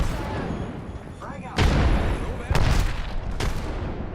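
Frag grenade explosions in Apex Legends gameplay: sharp, loud booms hit in a rapid cluster of three or four bursts, each followed by a rumbling tail, with a brief whine before the first.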